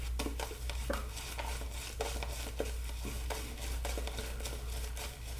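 A shaving brush works Myrsol Don Miguel 1919 shave soap into lather with a steady run of quick, wet swishing strokes, close and moderately loud, with no talk.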